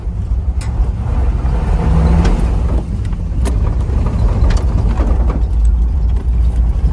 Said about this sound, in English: I can still fishtail around in the gravel.